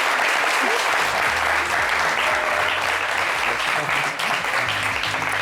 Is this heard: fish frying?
no